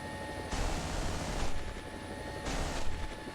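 Helicopter flying in War Thunder, with a dense, steady rotor and engine roar that swells in two broad surges over a constant loud wash.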